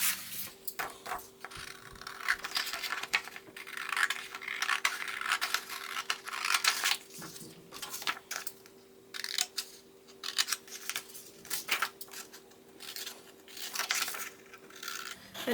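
Scissors cut out the bottom of a cardboard wand box, with continuous close rasping snips and rustling that come in uneven bursts over a faint steady hum, without any voice.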